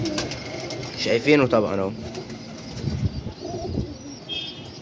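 Domestic pigeons coo with throaty rolling calls close by at a pigeon loft, while someone talks over them and wings faintly rustle.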